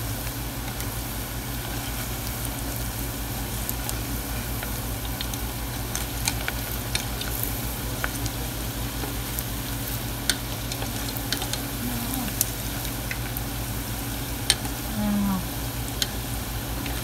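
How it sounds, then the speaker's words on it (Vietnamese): Vietnamese pork sausage (giò) frying in a pan at home, a steady close sizzle running throughout with light scattered ticks and pops, and occasional faint voices in the background. "Chiên cái giò thấy ngon lắm."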